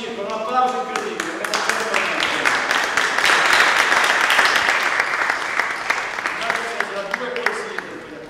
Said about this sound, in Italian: un grande ritorno nel circo, un applauso incredibile